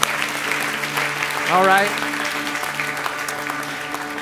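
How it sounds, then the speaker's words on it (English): Church congregation applauding during a morning worship service, a steady wash of hand claps under a voice speaking briefly, with a sung or spoken rise partway through. "Give the Lord a hand clap this morning."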